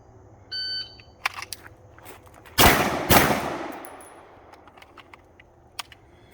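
Staccato P DPO pistol fired during a shooting drill: two sharp, loud shots close together, with a decaying tail, set among fainter clicks and handling noise.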